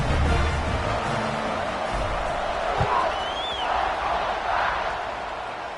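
A stadium crowd in a football video game roars in a steady, broad wash of cheering after a scoring drive, with a commentator's voice faintly mixed in.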